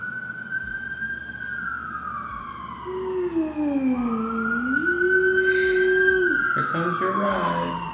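Emergency sirens wail and sweep up and down in pitch, loud and continuous, with traffic rumbling underneath on a busy New York City street.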